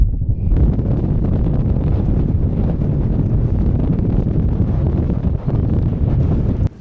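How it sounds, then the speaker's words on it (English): Strong wind on a mountain ridge in Glen Etive, Scotland, roars and buffets the microphone continuously, a dense, rumbling gust that barely lets up for the whole stretch. "it is really windy"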